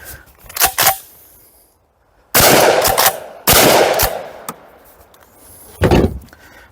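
Huglu pump-action shotgun loaded with birdshot fires several loud, sharp reports with rough echoing tails, spaced irregularly across the stretch, with quieter mechanical clacks between them and no talking.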